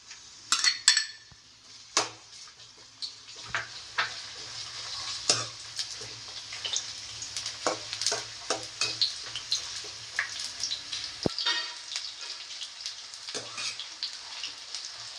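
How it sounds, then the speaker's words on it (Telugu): Chopped onions fry in hot oil in a pan while cooking chicken curry. A soft sizzle runs under repeated clinks and scrapes of a spoon against the pan, with one louder knock near the start. "ఆనియన్స్ కొంచెం గోల్డెన్ బ్రౌన్ కలర్ వచ్చేంత వరకు వేయించుకోవాలి."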